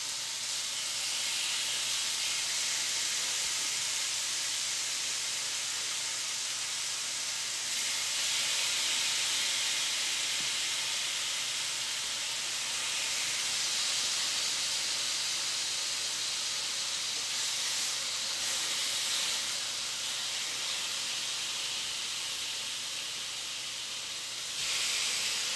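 Huli Huli chicken searing in a hot pan, a loud, steady sizzling hiss that runs unbroken for the whole stretch with only slight swells.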